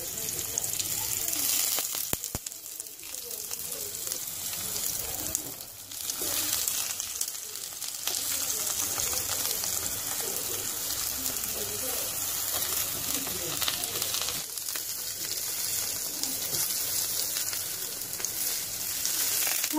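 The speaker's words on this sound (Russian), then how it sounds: "Обжариваем с двух сторон." Steady oil sizzle of eggplant frying in a grill pan, a continuous close crackle with occasional louder bursts and faint clatter.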